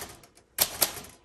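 Typing on a 1938 Royal Model O manual typewriter with original glass keys: faint soft keystrokes, then two crisp, loud key strikes close by.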